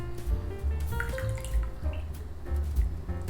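Grass jelly drink poured from a can into a cup, with a steady liquid trickle and small splashing drips as the chunky jelly drink falls, close and fairly quiet.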